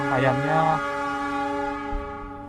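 An Argo Dwi Pangga train from Gambir bound for Solo Balapan, built with SSNG cars, pulls in on track 3, sounding a loud sustained two-tone horn that cuts off and leaves a steady rumble of the arriving train.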